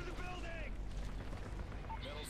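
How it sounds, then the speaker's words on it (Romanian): Gunfire and explosions in Call of Duty: Modern Warfare 3, a muffled, continuous rumble with scattered bursts and game sound effects throughout the short stretch. "deci câte explozii, câte chestii, nu mai înțelegi absolut nimic în zona asta pe aici."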